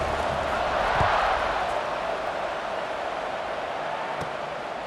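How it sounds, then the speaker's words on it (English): Stadium crowd in the EA Sports College Football 26 video game buzzing after a touchdown before a kickoff: a steady, dense roar of many voices, loud and unbroken, with faint scattered accents. "this crowd is buzzing after that last score"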